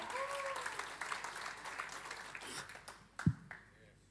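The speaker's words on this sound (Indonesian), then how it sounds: "Kita kasih tepuk tangan buat volunteer kita." A church congregation clapping for volunteers, a moderate wave of applause that thins out over a few seconds, with some talk mixed in and a sharp knock or thump near the end.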